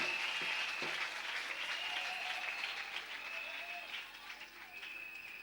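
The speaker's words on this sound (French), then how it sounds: "Acclame bien fort pour Jésus." A church congregation bursts into loud, sustained applause and clapping at a Sunday service, with crowd cheers mixed in, the dense clapping holding steady throughout before tapering slightly at the end.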